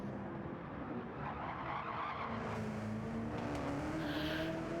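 TA2 race car power-drifting down a straightaway at Mount Panorama, tires skidding and squealing over a loud, steady engine roar with a rising whine, continuous and close throughout.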